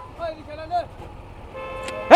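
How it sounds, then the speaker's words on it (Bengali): A bus honks from behind in busy road traffic: a loud, sustained horn blast swells up near the end, following a stretch of muffled voices and engine noise. "ঘুমানে হর্ন দিতেছে পিছন দিয়ে বাসটা"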